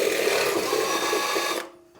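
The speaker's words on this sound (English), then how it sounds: "So I'm going to drill a hole right here," Steady high-pitched whine of an electric drill boring a hole into the body of a 1975 Ford F150 pickup, running continuously and close up before cutting off abruptly near the end.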